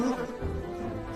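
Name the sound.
bee buzzing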